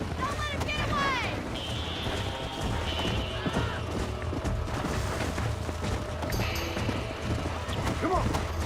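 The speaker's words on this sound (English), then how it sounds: "Tem que ir atrás desse cavalo pra laçar ele agora que ele foge." A horse gallops in Red Dead Redemption, with rapid rhythmic hoofbeats throughout, a whinny, and game sound effects, while a voice talks over it.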